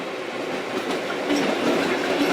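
A freight train hauling coal rolls past on the rails, a loud, close, continuous rumble with rhythmic wheel clatter that swells slightly toward the end.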